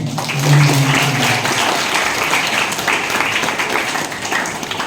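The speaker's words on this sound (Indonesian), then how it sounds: "Tepuk tangan dong." Audience applause fills a school event hall, a steady dense wash of clapping that swells early and carries on evenly throughout at a fairly loud level.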